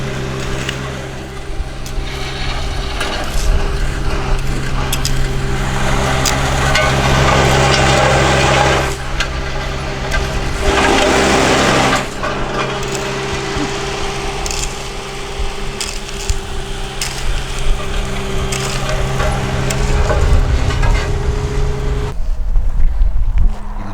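A pick shovel digs into dirt while an asphalt pad is prepared for a car garage, giving loud, close scraping and crunching strikes that repeat irregularly over a steady background hum.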